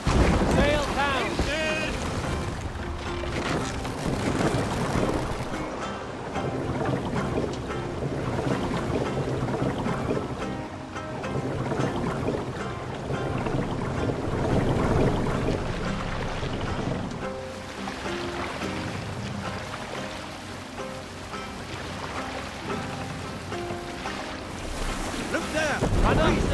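A Viking-era sailing ship at sea in Assassin's Creed Valhalla, with a continuous loud rush of wind, waves and creaking hull layered with game music and occasional voices.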